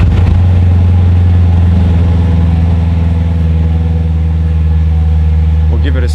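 A Corvette C7 engine idles loud and close as it warms to operating temperature, a steady deep rumble with a brief flare at the start and a clatter near the end.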